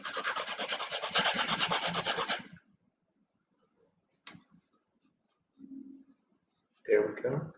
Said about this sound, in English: It's just a little sanding.